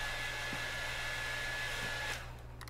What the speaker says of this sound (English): I have a fucking blow dryer. Is that to dry the paint faster?